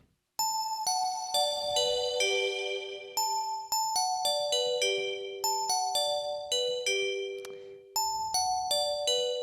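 Synthesized bell tones ring out in a melodic sequence, each strike clear and bright with a long reverberant decay.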